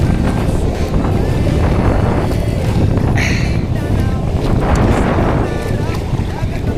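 Strong wind and big sea waves roar around a small fishing boat, a loud continuous rush with buffeting gusts against the microphone and faint voices in the background.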